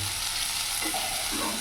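Salt, turmeric and Kashmiri chili powder are stirred in a sizzling pan for drumstick curry, a continuous hiss of frying under soft scraping strokes.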